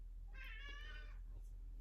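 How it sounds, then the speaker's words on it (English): A house cat gives a single drawn-out meow, clear and close but moderately quiet over a low steady hum, followed by a faint short breathy sound. "That's my cat."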